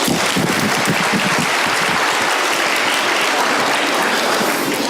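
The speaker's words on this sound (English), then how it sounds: "So please give them all a round of applause." Loud, dense audience applause fills the whole stretch, a continuous roar of many hands clapping close by with no talk over it.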